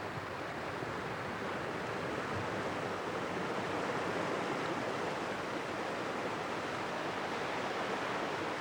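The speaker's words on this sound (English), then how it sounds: "This is the sound you get all day in Kells, water, rushing water, all day long." Set of waterfalls at East Gelforce near Kells on the Coast to Coast walk, a dense, steady roar of rushing water, loud and unbroken throughout with no voices.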